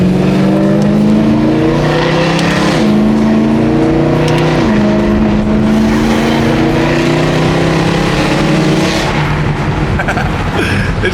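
A BMW E92 M3 engine runs loud and close, a continuous throaty drone with shifting pitch as revs rise and fall, no voices over it.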